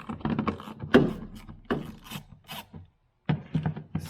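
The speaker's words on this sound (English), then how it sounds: "And then we need to start removing some of these bolts." A 10 mm bolt is worked loose with a ratcheting wrench on a Mini Cooper F56 battery mount: close, scraping ratchet clicks in short irregular bursts with a brief pause, no talk.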